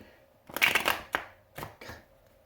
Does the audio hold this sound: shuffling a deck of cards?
yes